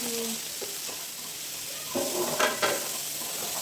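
Onions and salt sizzle in a pan for chilli idli, a steady close hiss broken by a few short scraping stirs of the spoon.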